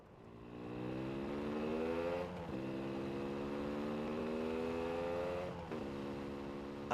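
Motorcycle engine revving up through rising gears, ridden by a high school student, loud and continuous with two brief gear-change dips, no talk.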